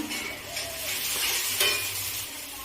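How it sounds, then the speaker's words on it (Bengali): Oil sizzles as ground mustard-poppy paste and a couple of green chillies go into the pan, a short, close burst of crackling frying with a light scrape of stirring and no voices. "এবার আমি বেটে রাখা সর্ষে পোস্ত আর দু তিনটে কাঁচা লঙ্কা তেলের উপরে দিয়ে দিই"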